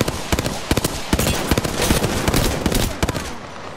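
Rapid enemy gunfire in Apex Legends, loud bursts of close cracking shots in quick irregular rhythm, dense and continuous for a few seconds with no talk.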